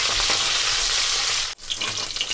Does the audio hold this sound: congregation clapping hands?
no